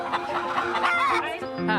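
Chickens on a farm with about 350 hens cluck and squawk close by, a busy overlapping chatter of several birds over a brief moment.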